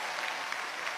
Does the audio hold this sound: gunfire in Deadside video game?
no